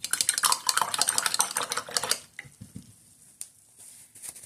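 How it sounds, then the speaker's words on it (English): A synthetic-bristle paintbrush is swished and rattled in a water cup for cleaning, giving rapid close splashy clatter that stops after about two seconds, followed by a few scattered taps and knocks, with no talking. "You're probably going to hear some funky swishes. That's me cleaning my brush."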